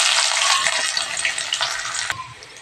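Crushed garlic hits hot oil in a pan for vegetarian khichuri, a loud bright sizzle with a few soft stirring knocks that gradually dies down.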